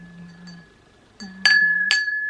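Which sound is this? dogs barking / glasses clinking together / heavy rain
glasses clinking together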